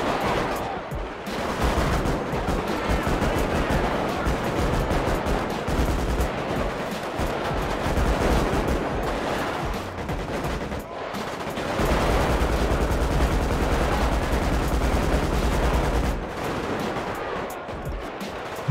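Gang-war gunfire in GTA V, dense bursts of automatic and single shots crackling almost nonstop in two long waves with brief lulls, loud and close, with faint voices in the background.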